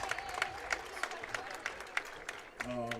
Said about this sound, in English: Can we get a clap?